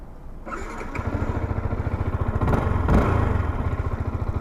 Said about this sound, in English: the stock exhaust sounds great, looks great, and you know, isn't overbearingly loud like a straight pipe